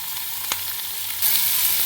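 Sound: chopped onion added to frying vegetables, sizzling

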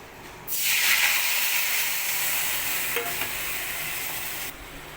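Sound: ground mustard poppy seed paste and water poured into hot pan

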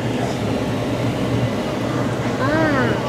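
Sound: museum train ride moving

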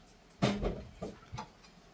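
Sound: knife cutting eggplant

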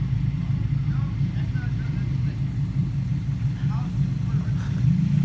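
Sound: loud car exhaust revving

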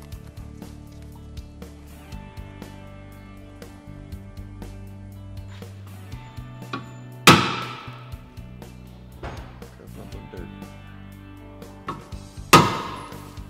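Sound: center punch struck with hammer

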